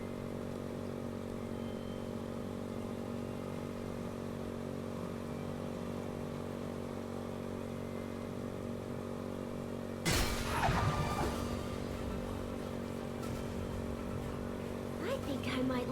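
A motorcycle engine in the video game Code Vein 2 drones steadily for about ten seconds, then a sudden crash-like impact cuts in, followed by rougher engine noise and voices.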